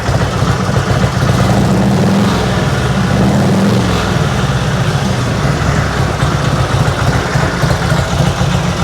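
A 1958 Panhead motorcycle engine with a generator that isn't charging runs loud and close, a steady rough throb with little change in pitch throughout.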